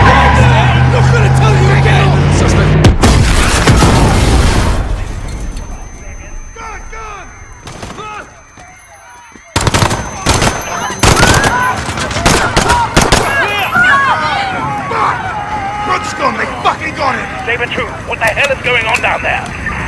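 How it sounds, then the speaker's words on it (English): Explosion and gunfire in Call of Duty: Modern Warfare at Piccadilly Circus, a loud blast followed by rapid bursts of automatic fire and scattered shots, with a quieter lull before the shooting resumes in dense, overlapping volleys. "There's been a detonation at Piccadilly Circus. Shots fired."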